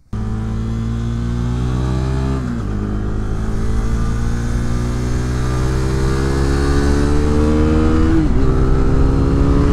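A small motorcycle on a race track revs loud and close with a steady, droning roar, its pitch dipping briefly twice as it shifts gears.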